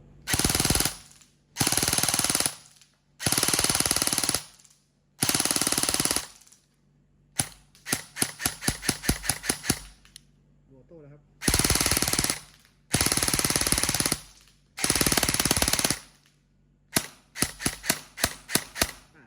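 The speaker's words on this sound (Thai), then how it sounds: "เวลายิงออโต้ก็ให้ยิงเป็นชุดนะครับ ยิงเป็นชุด" An E&C 857 airsoft gun fires full-auto bursts at a target about 40 metres away: a long string of loud, close, rapid mechanical rattling bursts, each lasting a second or so, separated by short pauses.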